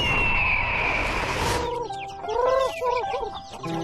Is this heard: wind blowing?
no